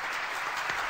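A studio audience on a reggae radio-TV programme briefly applauds to welcome a guest from San Juan, Puerto Rico; the clapping is dense and fairly faint.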